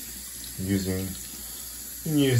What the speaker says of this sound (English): You just want to just let the water run over it.